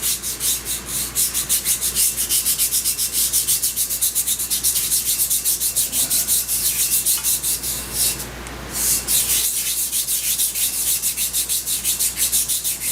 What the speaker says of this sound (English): Get a couple of circles cut in here with some emery cloth.